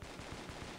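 Rapid automatic gunfire from a shooter video game, a dense steady stream of shots lasting under a second, fairly quiet overall.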